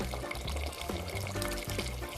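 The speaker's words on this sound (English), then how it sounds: "boiled water from the kettle there" Boiled water pours continuously from a kettle into a pot of base gravy, a close, gurgling splash with bubbling underneath.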